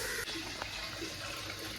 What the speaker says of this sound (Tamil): கழுவுன தண்ணி அதை வந்து நம்ம சேர்த்துக்கலாம்